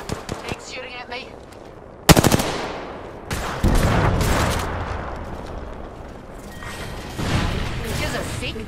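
Bursts of automatic gunfire in an Apex Legends match, a sharp volley followed by longer stretches of rapid shots at close range, with a player talking over the action.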